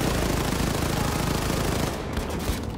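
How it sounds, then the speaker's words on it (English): Sustained suppressive machine-gun fire in the Wolfenstein II video game, a dense, continuous stream of rapid shots that stays loud and steady before briefly thinning near the end, with no talking. "I love just laying down so much fire that no one can counteract it"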